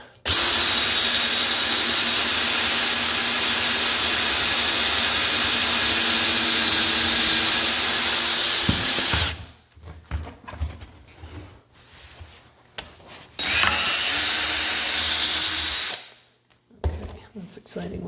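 A power drill bores into a wooden headboard frame, whining in a long steady run at close range, then falls into short stop-start bursts and a second sustained burst before trailing off. Birds coo faintly in the background.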